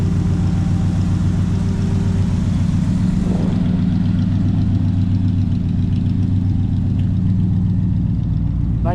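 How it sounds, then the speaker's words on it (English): A 1974 Corvette Stingray V8 idles steadily through its side pipes, a loud, continuous low burbling rumble held close throughout with no talk. "you've got the great sound of the side pipes"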